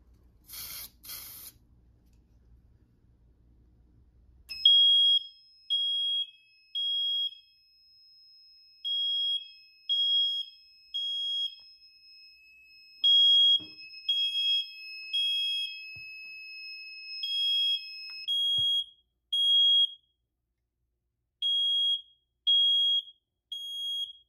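A fire alarm panel (Fire-Lite) sounds a high electronic alarm tone that pulses in short repeated bursts, loud and steady in rhythm, after a brief hiss at the start; no talking.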